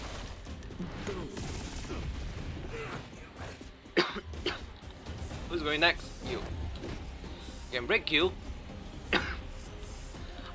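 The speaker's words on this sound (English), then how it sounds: "Oh my god, I can't stop coughing" A person coughs and clears their throat in several short bursts while playing Honkai: Star Rail, with other voices talking and game sounds underneath.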